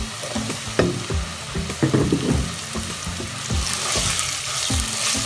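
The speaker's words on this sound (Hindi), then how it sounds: "2 से 3 मिनट तक मज़ीद फ्राई करेंगे" Okra sizzling in a pan with turmeric powder and green chili, a steady loud fry broken by repeated clattering stirs of a spoon against the pan.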